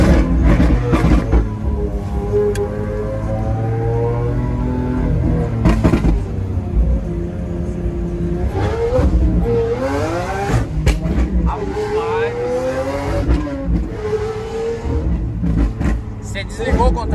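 Chevrolet Chevette car engine revving hard while driving, with rising and falling tones, loud and close, under ongoing conversation between occupants.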